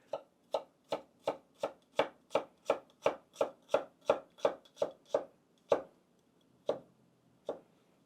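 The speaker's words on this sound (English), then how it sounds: "if I'm cutting a bunch of shallots, I'll do all of the vertical slices first" A knife slices vertically through shallots on a cutting board: a crisp, rhythmic series of about fifteen close, evenly spaced chops that slow and thin out toward the end, with no talking.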